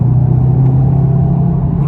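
A Volkswagen Golf 7R with its intermediate silencer removed drones steadily with a loud, resonant low exhaust rumble, holding an even engine tone throughout without talk.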